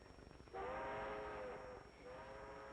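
A train in a 1943 black-and-white comedy film, with a sustained whistle-like tone over a steady rolling rumble, loud and close after a quieter start.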